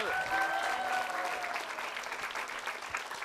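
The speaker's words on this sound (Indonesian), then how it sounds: "Tepuk tangan sekali lagi untuk Neng" Steady applause from a studio audience on an Indonesian TV comedy show, a dense wash of clapping that holds fairly loud throughout, with a faint tone lingering underneath.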